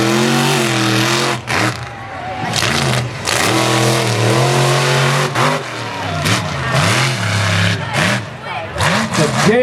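A monster truck roars through repeated hard revs on a freestyle racetrack at a Mt. Pleasant, Michigan event, the engine loud and close, surging and dropping in bursts with brief pauses, with an announcer's voice mixed in.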